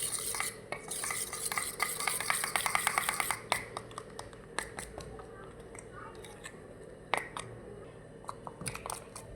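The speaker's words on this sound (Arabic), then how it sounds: "قلبنا البيض والدقيق مع بعض كويس" A spoon beats eggs and flour together in a bowl with quick, rhythmic clinking scrapes, loud at first, then slowing to scattered taps and clicks against a quiet kitchen background.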